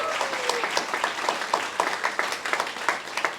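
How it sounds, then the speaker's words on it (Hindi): An audience claps loudly and steadily for the lead actor of a stage play, a dense, continuous burst of applause with no voices over it. "इस नाटक के मुख्य कलाकार आसार का किरदार निभाने के लिए जोरदार तालियां दर्ज कीजिए"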